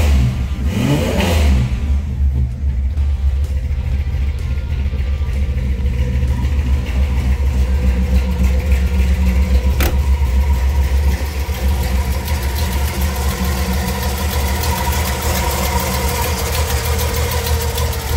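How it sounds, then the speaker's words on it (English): A 1963 Holden EJ Premier's original matching-number engine is revved hard right at the start, then settles into a steady, loud, rumbling exhaust idle close by, with no voices. "Good exhaust note."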